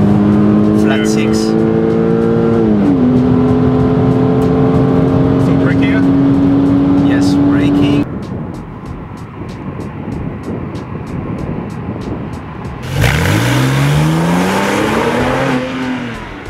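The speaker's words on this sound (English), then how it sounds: "Let's hear the sound of the flat six." Porsche flat-six engine on a road drive, holding a loud steady drone that climbs in pitch, drops away into road and wind noise, then revs up again hard near the end.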